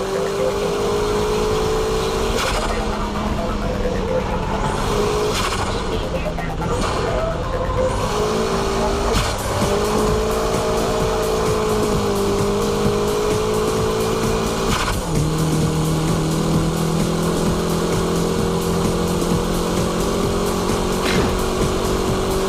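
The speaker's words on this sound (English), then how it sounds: "This is the ultimate style of drifting, high-speed drifting." A car engine screams at high revs through a long high-speed drift, the pitch rising and dipping with throttle changes over a constant roar, close and loud with no talking.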